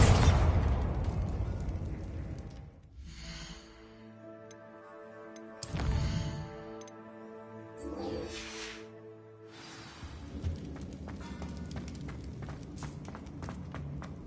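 A Bombarda blasting spell from Hogwarts Legacy bursts in a sharp, loud explosion, then rings out in long tonal decay. More blasts and sparkling spell effects follow, with no talk.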